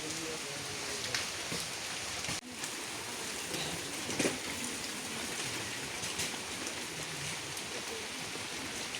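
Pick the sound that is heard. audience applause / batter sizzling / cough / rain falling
rain falling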